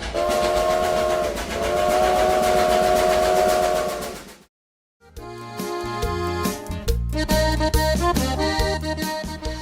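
A train whistle sounds in two long, steady blasts over rail noise, then after a brief silence a playful sound-effect cue for the Rocky Railway follows with rhythmic chugging and chiming tones.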